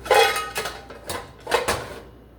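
A knife slicing open a plastic bag of dry pinto beans, heard as a few close crinkly rustles and short tearing bursts with brief pauses between them.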